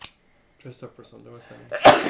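Someone gives a single loud, sharp sneeze near the end, just after people talk.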